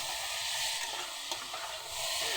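Boiled, fried whole potatoes stir-fried in spice paste for Bengali dim alur torkari, a steady close sizzle with scraping stirs of a spatula against the pan.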